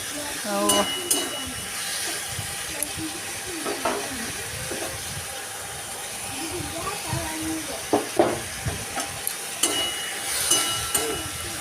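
Steady hissing sizzle of tomatoes frying in a pan, with occasional scraping and clicks of stirring; a voice speaks at times over it.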